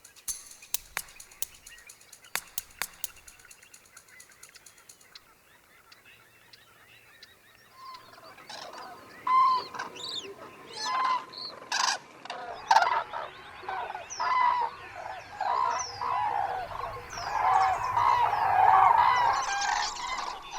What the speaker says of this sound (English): The squawking of cranes is still one of the most heard soundtracks during these winter months